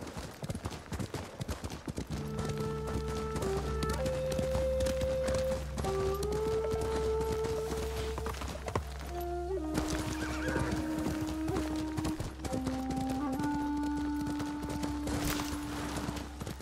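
In the Ghost of Tsushima video game, a horse lets out long, tonal whinnies and neighs over a steady bed of hoofbeats, with loud continuous game ambience and no speech.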